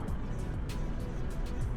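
Truck idling and creeping in gridlocked morning traffic in Albania in Euro Truck Simulator 2, a dense, steady low engine rumble close up with faint higher hiss bursts.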